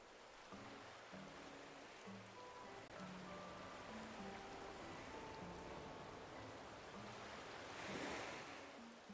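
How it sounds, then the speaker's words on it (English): Steady heavy rain falls outdoors on an island, a dense even hiss that holds for several seconds with a brief swell near the end, fairly soft and unbroken, with no voices. "Yo, look at this rain. It's sick rain."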